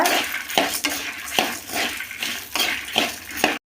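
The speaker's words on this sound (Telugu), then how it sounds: "ఈ మినపప్పు వేసి ఇందులో పోసేసుకోవాలా ఇది కూడా కొంచెం బాగా ఫ్రై చేయాల" Urad dal tossed and stirred in a hot pan for a chutney, with repeated scraping strokes about every second and a soft continuous sizzle underneath, close and fairly loud.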